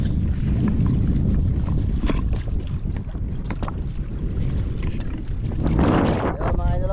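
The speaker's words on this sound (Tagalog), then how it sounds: "malakas ang hangin" Strong typhoon wind buffets the microphone on a fishing boat in a steady, heavy rush, with a low boat rumble and faint voices underneath.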